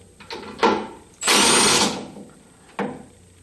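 Power tool loosening a bumper bolt on a 1976 Corvette during a front crash bumper install, heard as short close bursts followed by one longer sustained whir, then a final brief burst.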